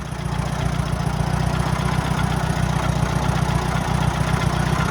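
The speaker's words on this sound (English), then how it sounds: "Ain't nothing like making tracks in the snow with an old tractor." An old tractor engine runs steadily while driving through snow, a loud continuous low rumble holding constant throughout with no voices.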